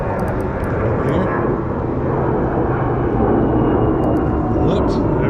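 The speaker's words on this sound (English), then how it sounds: "airplane goes over the top of us." An airplane passes overhead beside a creek during a fishing trip, a steady broad engine roar lasting throughout, loud and continuous, with faint speech under it.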